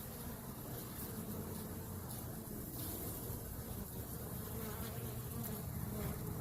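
A steady, dense buzz of many bees swarming around a hive, continuous and fairly faint, with no voices.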